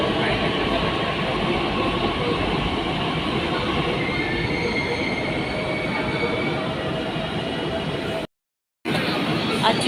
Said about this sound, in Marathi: समोरून तुम्हाला दिसत असेल मेट्रो येते आहे